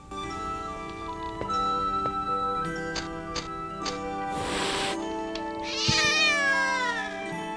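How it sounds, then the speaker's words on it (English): A giant cat in the video game Tales meows, a long sustained call that rises and bends near the end, heard over steady game music with no talking. "Oh my god, a gigantic cat!"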